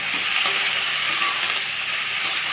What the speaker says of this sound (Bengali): এটাকে সিম দিয়ে আলু দিয়ে ভাজা ভাজা করব। এর মধ্যেই আমি নুন আর হলুদটাও অ্যাড করে দেবো।